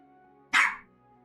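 A single sharp dog bark, close and loud, rising out of a quiet room with a faint steady hum underneath and no talk.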